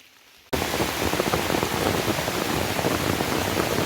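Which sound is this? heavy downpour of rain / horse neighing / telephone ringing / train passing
heavy downpour of rain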